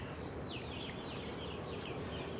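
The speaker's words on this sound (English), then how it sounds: "the birds are starting to stir, as you can hear in the background" Faint bird calls and chirps drift in from a distance in the city of Sydney over a constant background rumble, sparse and irregular.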